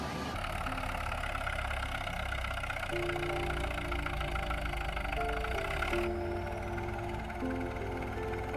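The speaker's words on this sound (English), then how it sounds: "the engines roar and the tires dig into the ground." Steady, loud tractor engine drone with a deep low rumble and a constant mechanical grind as its tires dig into the ground, running continuously with no talking.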